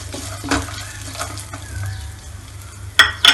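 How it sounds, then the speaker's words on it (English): Garlic, ginger, red chili and curry leaves sauté in a pan with chana dal for chutney, a soft sizzle broken by a few stirring scrapes and a sharp clatter of the utensil near the end. "I will saute this. Then garlic, ginger, red chili and curry patta."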